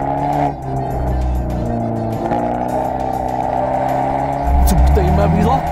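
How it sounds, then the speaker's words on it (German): An Abarth 124 Spider sports car is driven hard up a five-kilometre mountain road at Hohe Wand in Lower Austria, its engine droning and revving in steady pulls with a sharp surge and brief tire noise near the end. "Also man hört schon, wie brachial der Wagen geht."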